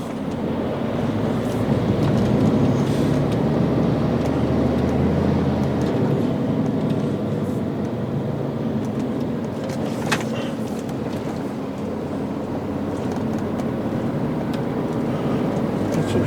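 A truck rolls off a river ferry, a steady low engine rumble and drone that holds throughout, with faint clanks and a brief knock near the middle.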